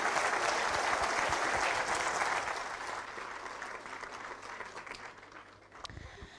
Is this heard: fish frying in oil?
no